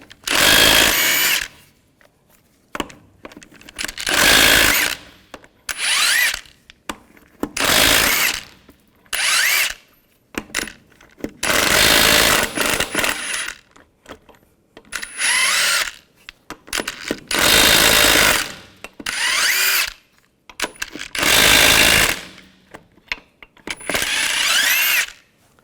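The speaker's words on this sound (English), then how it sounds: "I'm going to use a 22mm socket. Take the lug nuts off" An impact tool spinning off 22mm lug nuts on a 1999-2006 Chevrolet Silverado 1500 wheel: a series of loud, close bursts of whirring rattle, each a second or two long, separated by short silences.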